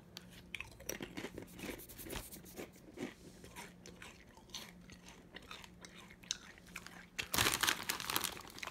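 Doritos Solid Black Spicy Pineapple Jalapeno chips being chewed close up, with repeated crisp crunches and bites and bag crinkling, plus a louder burst of crunching near the end, with no talking.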